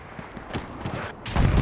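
A self-propelled artillery round lands in a competitive WWII tank game, a dense, loud burst of booming impacts and crackling gunfire, with a heavier blast swelling near the end, no voices.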